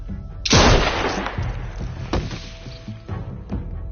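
A single loud, close gunshot rings out in The Walking Dead video game, its sharp blast decaying into a rumble, followed by a few fainter thuds and knocks.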